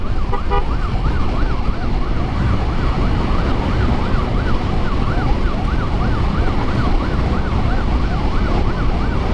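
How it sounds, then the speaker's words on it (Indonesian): An emergency ambulance siren wails continuously in a steady cycling pattern on a road during a motorcycle escort, loud and close over constant engine and traffic rumble. "Ternyata ada 2 ambulan,"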